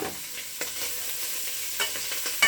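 Bacon and andouille sausage sear in a pan for Creole chili, giving a constant close sizzle. Faint stirring scrapes and pops come through every half second or so.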